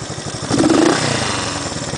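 A 1971 Honda CB350 motorcycle engine blipped from idle, a close, loud mid-pitched rev that swells sharply and then eases back toward a pulsing idle.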